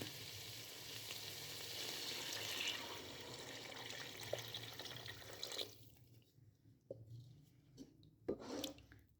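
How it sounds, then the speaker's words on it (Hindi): Water is poured into a pot to cook beef pulao rice, a continuous rushing splash that runs for several seconds and then tapers into scattered drips and small splashes. "अब मैं इसमें ऐड करने लगी हूँ पानी"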